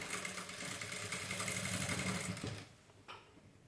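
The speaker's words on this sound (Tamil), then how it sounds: "அப்படியே ஸ்ட்ரெயிட்டாக ஸ்டிச் பண்ணுறேன்." A sewing machine stitches a straight seam on a kurti, its motor whirring steadily and close for over two seconds before slowing and stopping, followed by a brief mechanical clunk.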